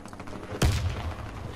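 A semi-automatic sniper rifle fires a single sharp shot in the Warface shooter game, a loud sudden crack followed by a short booming low tail and fading echo.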